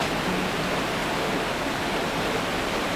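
Winter waterfall in Johnston Canyon, Banff, among icy rock and frozen drips, gives a steady, dense rush of falling water, even and continuous throughout, fairly close, with no voices.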